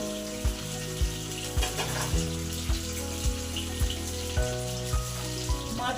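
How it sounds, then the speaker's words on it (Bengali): Rohu fish pieces frying in hot oil, a steady close sizzle with a low hum underneath and regular sharp clinks of a utensil every half second or so. No one speaks. "মাছগুলো এভাবে লাল লাল করে ভেজে নিতে হবে"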